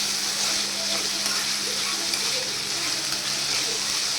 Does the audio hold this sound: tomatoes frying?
yes